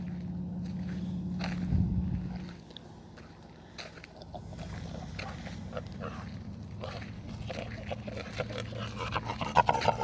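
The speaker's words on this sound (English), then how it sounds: "See the dog and the pigs." Dog and pigs moving about on a desert farm garden, with scattered snuffling, rooting and shuffling footstep-like noises over a low steady hum, fairly close and moderately loud, with no clear talk.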